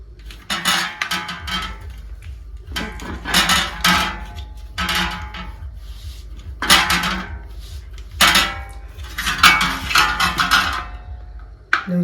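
An old ceiling fan's blade is worked loose with metal tools, producing irregular bursts of clanking, scraping and knocking against metal parts, fairly loud and close over a low steady background hum.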